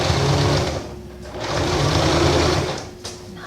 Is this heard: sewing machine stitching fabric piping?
yes